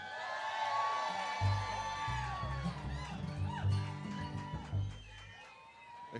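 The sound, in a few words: concert crowd cheering at Poppy Mountain show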